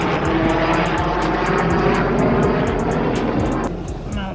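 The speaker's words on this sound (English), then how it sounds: "Helicopter." Loud, continuous engine roar of a helicopter passing close overhead, with a rapid rhythmic rotor beating that fades slightly near the end.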